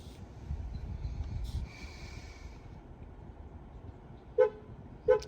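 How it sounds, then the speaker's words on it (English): Two short car horn toots from a 2020 Mazda6 after smart key programming with a Lonsdor K518, sounding near the end over quiet indoor background after a faint breath-like noise. "So car is giving the horn now."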